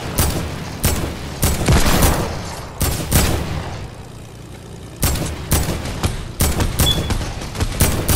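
Video game gunfire crackles in repeated loud bursts, with sharp volleys separated by short gaps and dense rapid shots. A brief lull falls in the middle before the shooting picks up again, with no talking.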